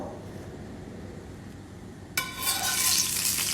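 Hot coconut oil in a pan for chutney bursts into a sudden bright sizzle after quiet kitchen hiss and keeps crackling steadily to the end.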